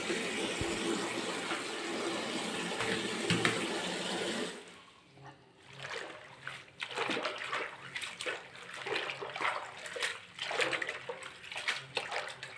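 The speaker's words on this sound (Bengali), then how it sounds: "দেখো এবার আমি সবজিগুলোকে ভালো করে ধুয়ে নিচ্ছি" Leafy greens and vegetables are washed under running water, a steady tap stream at first, then irregular splashing and sloshing as the leaves are rinsed by hand nearby.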